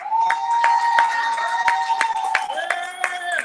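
An audience at a commencement ceremony claps for a graduate, steady close clapping and cheering carried under a spoken voice for a few seconds.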